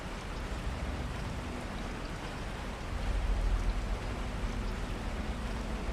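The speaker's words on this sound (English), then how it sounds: "I have added rain sounds" Steady, dense rain falls continuously, a loud hiss of drops with a slight swell midway and no other sounds.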